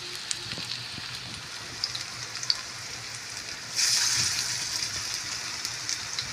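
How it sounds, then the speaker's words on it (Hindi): Potato pieces frying in oil over a medium-low flame, a steady soft sizzle with faint crackles and pops that swells louder partway through as more potatoes go into the pan. "अब मैं इनको फ्राई करके दिखाती हूँ।"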